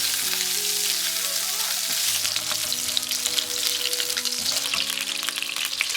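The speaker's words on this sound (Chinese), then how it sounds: "锅内倒入适量的油，油热之后把鸡腿肉放入锅内" Chicken thigh pieces fry in hot oil in a wok with a loud, continuous crackling sizzle that stays steady and close throughout, alongside a faint low kitchen hum.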